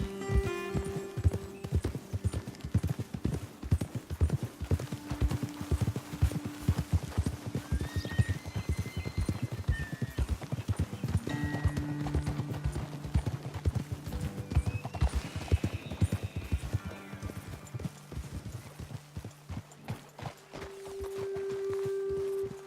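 Horses ridden in Red Dead Redemption 2 clop along in a steady, brisk rhythm of hooves, close and clear, with an occasional snort or whinny and faint game ambience underneath.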